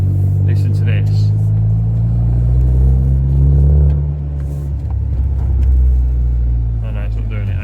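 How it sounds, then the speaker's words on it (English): A 2004 Saab 9-3 car engine runs loudly nearby, a steady deep rumble that holds throughout with slight swells in level. "as you can hear, my Saab's quite loud"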